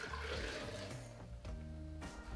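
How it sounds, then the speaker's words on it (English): Coffee is poured into a French press in a short, quiet liquid stream that gurgles and splashes close by. "So we just pour it in here."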